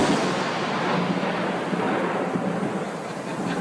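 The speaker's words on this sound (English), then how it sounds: "The most dangerous moment is when thunder immediately follows lightning," Thunder right after a lightning strike in a storm, a loud continuous rolling rumble that fills the whole span, heavy and broad without distinct cracks, with no voices.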